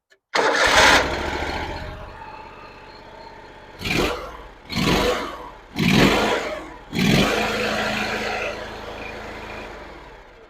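A Kohler Command 25 engine on an Allmand TLB25 backhoe cranks and catches, then settles into a steady idle broken by four rising throttle blips before it runs on evenly, close and loud.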